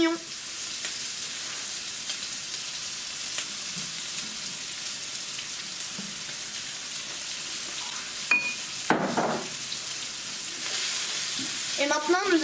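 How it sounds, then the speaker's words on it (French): Onions for homemade tacos sizzle in a frying pan with a steady crackle, broken by a few scraping stirs of a utensil toward the end as the frying flares up, and no talking over it. "Et maintenant, nous allons faire revenir tout ça."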